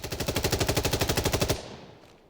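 An H&K G36K rifle fires full auto in Insurgency Sandstorm, about twenty evenly spaced loud shots in a rapid steady rhythm over a second and a half, then a short fading echo tail.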